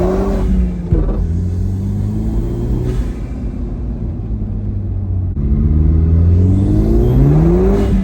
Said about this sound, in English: I'm just gonna dump the clutch.